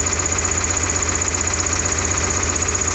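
The loader's engine runs at a steady idle with an even low throb, constant and fairly loud, with no voices.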